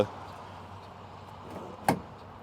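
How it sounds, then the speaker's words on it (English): The door of a worn, rusty 1973 Plymouth Road Runner swings shut with a single close, sharp thunk against a quiet background, with no talking. "I'll go ahead and close up our door here."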